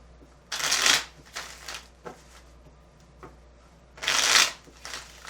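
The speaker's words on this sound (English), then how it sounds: "I do like to shuffle on camera" Playing cards are riffled and shuffled in a few quick bursts, close and crisp, with quiet pauses between them.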